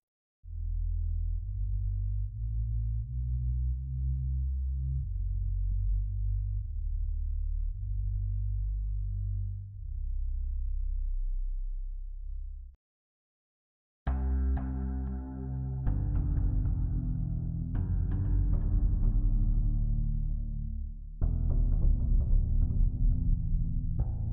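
Omnisphere 2 synthesizer patches from the Magonia library: low sustained droning chords with a slow, stepping pulse, then after a brief gap brighter, denser textured pads and shimmering tones, all instrumental without speech.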